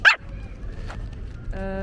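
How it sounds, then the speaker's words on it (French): A dog gives one sharp, close bark at the start, then a brief high tonal yip or whine follows about a second and a half later, over quiet room background. "Elle a grave aboyé, je sais pas ce qu'elle a vu."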